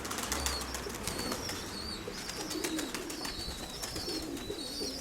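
Pigeons cooing softly in a loft, with wings flapping now and then amid steady rustling and chirps, close by and continuous, with no voices.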